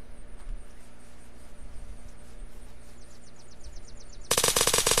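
Gunfire in the video game Unturned: a quiet stretch of faint game ambience, then a loud, rapid burst of automatic shots close up at the very end.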